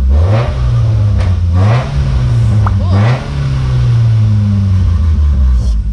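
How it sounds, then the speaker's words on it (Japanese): A Nissan March 12SR car engine, in good running order with about 198,970 km, revs up in repeated bursts, loud and close, its pitch climbing and dropping several times. "エンジンはめっちゃ調子いい。"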